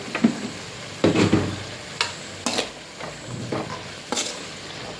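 Food sizzles in a pan as meat masala is stirred in, with bursts of scraping and clattering strokes from the spoon over a soft steady frying hiss, close and alone without talk.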